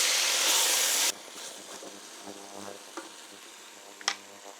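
Vegetables fry in fat rendered from bacon, starting with a loud, dense sizzle for about a second, then settling into a quieter crackle with scattered clinks of utensils against the pan.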